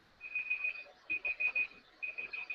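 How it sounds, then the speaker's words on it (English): An alarm beeps in quick bursts of four or five high, shrill tones, repeated three times with short pauses between, clear and close. "I put on my alarm for a minute"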